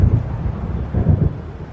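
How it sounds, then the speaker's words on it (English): Low, rolling thunder from an approaching storm in the video game Alan Wake rumbles in two heavy swells, close and loud, mixed with wind and faint rain and no talking. "It seems there's a storm coming."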